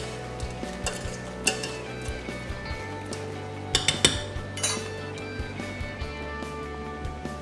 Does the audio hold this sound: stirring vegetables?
yes